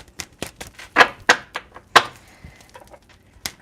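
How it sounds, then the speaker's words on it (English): A deck of tarot cards is shuffled by hand, giving a run of quick, crisp card slaps and riffles with irregular spacing. The sounds are close and clear, with no voices. "I'm going to shuffle 5 more times."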